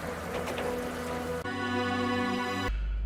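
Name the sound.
heavy rain sound effect in a story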